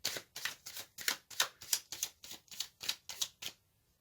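Tarot cards shuffled and dealt at close range, about a dozen crisp riffling bursts in a steady rhythm, each a short papery flutter, ending abruptly in near silence with no talk.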